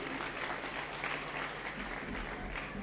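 Audience at a Jain religious discourse in Banda clapping steadily throughout, a dense, continuous patter of many hands at moderate distance with a faint low hum underneath.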